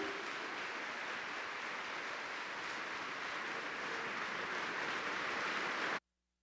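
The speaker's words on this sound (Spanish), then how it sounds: "Dele un buen aplauso a Él, porque Él está vivo." Steady applause from a church congregation during a Spanish-language sermon, a dense, even wash of clapping that holds for about six seconds and then stops abruptly.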